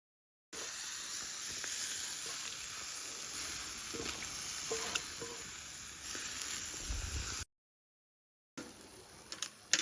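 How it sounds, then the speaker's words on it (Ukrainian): Shashlik skewers roasting over heat give off a faint, steady sizzle and crackle with a soft hiss, broken by a brief silent gap near the end before resuming quietly. "шашличок наш іде до завершення. Він вже прожарюється"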